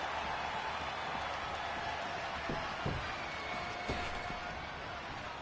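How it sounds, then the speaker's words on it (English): Phoenix arena crowd noise in a WWE 2K20 wrestling game, a steady roar of cheering with a few sharp thuds and slams, loud and continuous throughout. "It certainly sounds like this Phoenix crowd is pumped up to be a part of this card"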